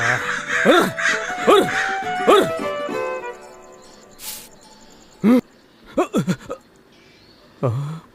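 Crows caw loudly and repeatedly in a cartoon story, several harsh rhythmic calls up close, followed by scattered shorter caws and yips after a pause.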